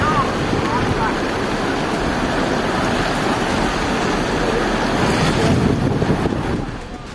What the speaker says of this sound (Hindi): इस वीडियो में आप देख सकते हैं कि कैसे पार्वती नदी का पानी पुल पर बह रहा है।